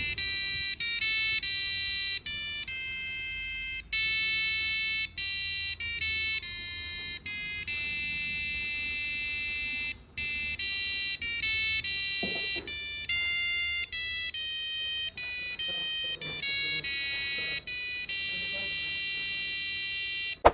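A passive buzzer wired to pin 11 of an Arduino Uno plays a melody of shrill, stepped electronic tones, loud and continuous for about twenty seconds, with one brief gap midway.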